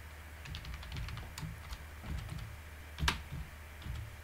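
Fingers typing on a computer keyboard while writing Python code, producing steady close key clicks with a slightly sharper stroke near the end, quiet otherwise.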